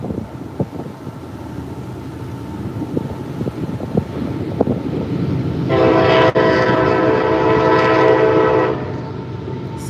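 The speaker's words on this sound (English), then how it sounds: "Ooh, that's a long train." Rumble of a long CSX freight train rolling past outdoors with wind noise, then a loud, sustained horn blast lasting several seconds before cutting off while the train keeps rumbling.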